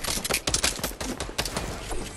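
Rapid gunfire in the video game Fortnite, a dense two-second flurry of sharp cracking shots, loud and close with no talk over it.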